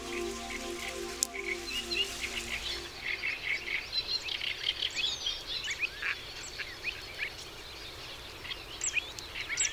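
Many birds chirp and call across Ebro Delta wetlands, a busy, fairly faint chorus over a soft, steady hiss, after a low hum fades at the start.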